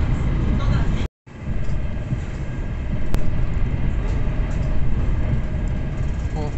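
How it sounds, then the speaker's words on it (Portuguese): A passenger train in Italy, heading from Rome towards Florence, passes another train going the opposite way. A loud continuous rumbling rush fills the clip, broken by a short dropout near the start, and voices can be heard under it. "Comecei a filmar no exato momento que passou um trem em sentido oposto."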